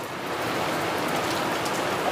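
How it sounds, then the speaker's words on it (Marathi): Steady unseasonal rain falls in a dense, even hiss with no breaks, close and moderately loud throughout. "तर असं कधीही पाऊस पडतो कधीही ऊन पडतं"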